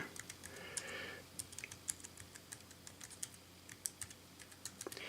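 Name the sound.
typing on GPD Pocket mini laptop keyboard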